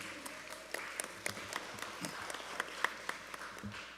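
Sparse, scattered clapping at a school board meeting, quiet and somewhat distant, with individual claps standing out over a low room hum.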